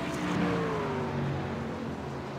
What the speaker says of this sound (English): He's revving up.